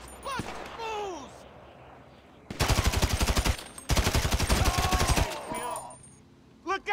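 Rapid automatic gunfire in the GTA V video game, two loud sustained bursts of evenly spaced shots, the first about a second long and the second slightly longer, framed by someone shouting before and after.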